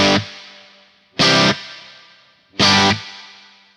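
Guitar run through a Neunaber Immerse reverb pedal, low cut turned to maximum: three loud, evenly spaced strummed chords, each ringing out into a long, gradually fading reverb tail, no talking.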